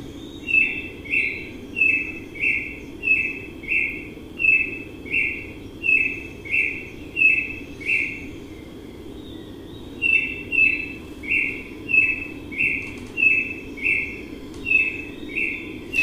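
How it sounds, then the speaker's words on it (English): A single unseen bird sings a close, repeated high chirping phrase in a steady rhythm, with a low, continuous rushing waterfall beneath it in a mono recording. "a fixed focus, close perspective mono recording of a bird I couldn't see"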